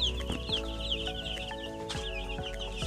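Broiler chickens cluck and chirp continuously, with several birds heard close by, over a steady low hum like a fan in a poultry house.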